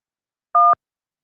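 A single telephone keypad button press sounds one short, clean two-tone DTMF beep, loud and close, alone with silence before and after.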